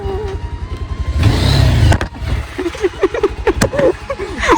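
A motorcycle engine runs on a dusty trail, a low steady rumble with a louder surge in the middle; voices talk over the later part.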